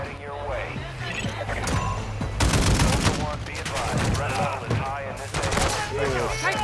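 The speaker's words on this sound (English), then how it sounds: "somebody's shooting at us from back" Rapid automatic gunfire from Call of Duty: Modern Warfare II rattles in dense, overlapping bursts with a loud volley near the middle, mixed with in-game battle noise while a player speaks over it.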